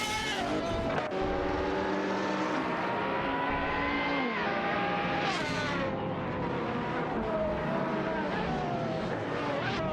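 Pagani Zonda and Huayra race cars battle in a racing video game, their engines droning loudly and continuously with shifting pitch as they rev and shift, and one car sweeps past around the middle.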